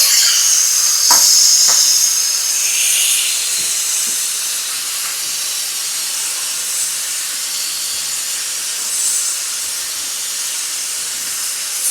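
Chicken pieces dropped into hot oil for a fried chicken pickle sizzle with a loud, close, hissing roar, a few clinks at the start, then settle into a steady fizzing crackle.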